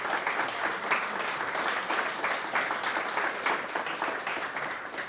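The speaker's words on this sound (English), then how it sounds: "So give them a round of applause." Steady applause from a seated audience at a fraud-fighting risk and compliance panel event in New York, a dense, even wash of many hands clapping throughout with no break.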